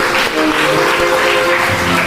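A church congregation at Christmas Mass claps loudly together in a dense, continuous wash of applause, with a faint tonal hum running underneath.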